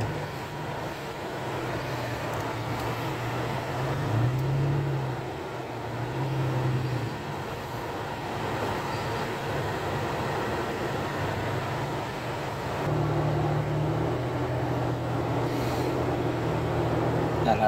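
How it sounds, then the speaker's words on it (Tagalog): Heavy road traffic outside a military hospital: a steady low engine rumble of idling and crawling vehicles, swelling slightly at moments, continuous and fairly close. "Sobrang traffic dito mga kalanmain."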